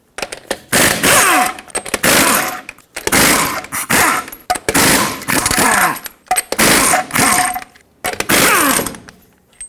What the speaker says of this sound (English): Use a 21mm socket, remove the 6 lug nuts holding the wheel on.